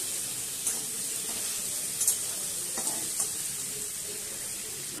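Prawns coated in salt and turmeric are lightly fried in oil, giving a steady close sizzle with a few sharp pops and spatters spread across the stretch.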